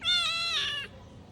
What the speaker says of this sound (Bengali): মিয়াও দেখি